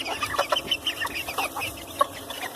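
An Olandsk Dwarf hen clucks close by in a quick series of short, soft, repeated clucks, with faint background noise and no talking.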